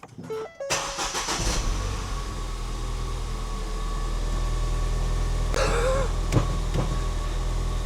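A Ford Fiesta ST, a salvage-auction car after a repair, cranks briefly and fires up, then settles into a steady, close idle with a slight rise in engine noise and a couple of small clicks.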